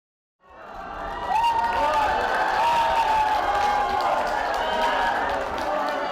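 A crowd of well-wishers cheers outside a Seocho-dong residential apartment complex for a newly inaugurated President Yoon, a dense wash of shouts and murmurs with voices rising above it throughout.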